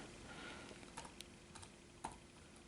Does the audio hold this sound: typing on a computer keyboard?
yes